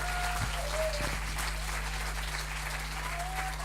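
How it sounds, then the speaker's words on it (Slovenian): A crowd at a women's entrepreneurship celebration applauds an event organizer, with continuous even clapping throughout and a steady low hum underneath. "Urša Žorž, prosim, en aplavz"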